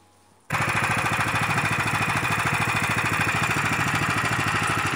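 A walk-behind tractor's engine with a disc hiller attached for hilling potatoes starts after a brief quiet moment, then runs steadily and loudly close by in a fast, even, chugging rhythm with no talk.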